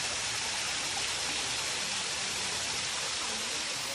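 Manoa Falls waterfall and stream on a Hawaii hiking trail pour out a steady, unbroken hiss of rushing water, loud and constant throughout with no voices.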